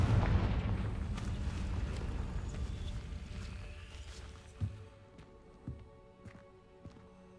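A Confringo fire-blast spell explodes in a wizarding video game with a loud, rumbling burst that fades over several seconds, followed by a few soft thuds.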